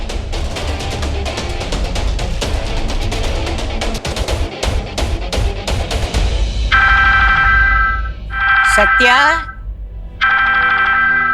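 A telephone rings in repeated electronic bursts, following busy music and a brief spoken word in between.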